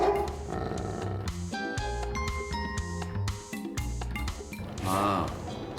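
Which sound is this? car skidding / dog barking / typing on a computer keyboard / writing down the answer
dog barking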